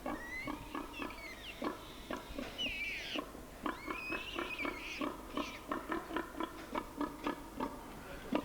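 Piglets on a Latvian pig farm give off a rapid run of short oinks and squeals, closely miked and steady, with higher squeaks breaking through now and then.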